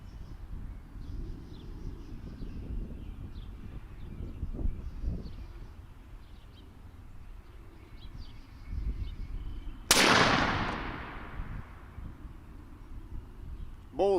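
One sharp gunshot from a .50 caliber Hammer carbine at a 70-yard range, loud and close, ringing out once midway after quiet outdoor ambience with wind and faint birdsong.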